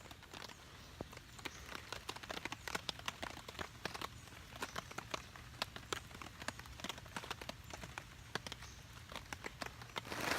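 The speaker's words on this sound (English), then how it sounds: "It's raining," Rain patters irregularly on a hammock camping shelter, soft and fairly faint, a scattered run of close drops over a steady hiss with no talk.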